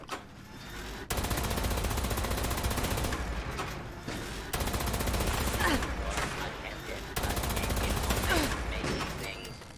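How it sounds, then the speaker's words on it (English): An anti-armor Gatling laser in Fallout 76 fires in long, dense, loud bursts of rapid repeated shots, broken by brief gaps at roughly one-second and three-second intervals, with game effects layered underneath. "I've got an anti-armor Gatling laser, these things seem to take a surprisingly long time to go down"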